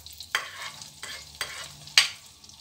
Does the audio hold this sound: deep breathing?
no